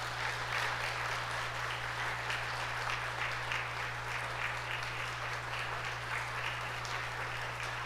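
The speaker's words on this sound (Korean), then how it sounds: "자, 우리 다시 한번 큰 박수 하겠습니다." Sustained applause from a church congregation at a Korean Methodist Sunday service, dense steady clapping filling the room for the whole stretch over a constant low electrical hum.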